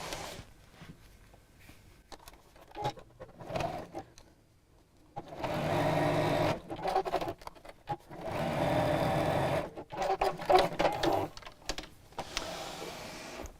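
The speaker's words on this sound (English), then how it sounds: "I'm going to top stitch along each side" A sewing machine top-stitches along the folded edges of a fabric strip, running in several bursts of rapid whirring stitches with short pauses between them and no voices.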